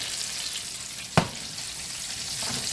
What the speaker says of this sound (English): get on a skillet, fry up some shrimp